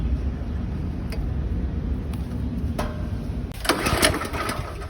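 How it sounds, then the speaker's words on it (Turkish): Kama KGL75Z petrol tiller engine running steadily close by, a continuous rough drone that swells louder for a moment near the end, with no talk over it. "Şey, çalıştı makine."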